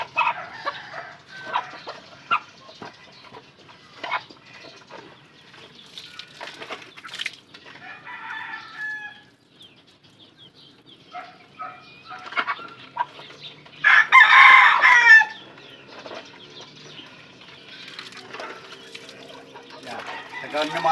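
Backyard chickens, pullets and stag roosters cluck and crow in short scattered bursts while being bathed, with one loud crow standing out near the end and a dog barking now and then.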